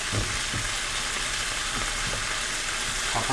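Green onion stir-fried in a pan, with a loud, continuous sizzle and occasional scraping stir strokes up close, no talking.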